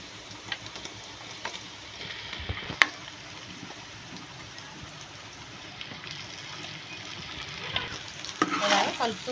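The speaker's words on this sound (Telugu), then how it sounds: "ఈ మిశ్రమం అంతా ఇంట్లో వేసేసుకుని తాలింపులో వేసుకుని కలుపుకుందాం." A shark fish mixture sizzles softly as it is stirred in a tempering pan, with a low continuous fry, occasional spoon scrapes and a sharper clink partway through, and a louder stirring rustle at the end.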